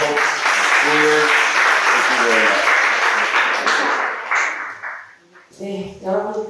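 An audience claps after a theology lecture, the applause loud and dense at first, then thinning and fading, with a speaker's voice talking over the clapping and continuing as it dies away.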